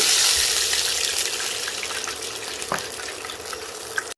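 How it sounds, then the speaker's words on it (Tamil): One cup of water poured into a pan while cooking crispy garlic potato bites, a steady close gush and splash running the whole time with no talk. "இதை விட 1 கப் தண்ணி."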